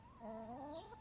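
Pet hens cluck and warble in a run of rising, overlapping calls at close range, with one brief higher squawk near the end.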